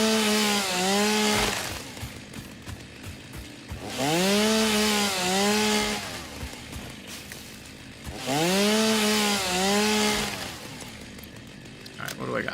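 A chainsaw cuts wood in the video game Satisfactory: three loud revving bursts, each rising and falling in pitch, separated by short idling pauses.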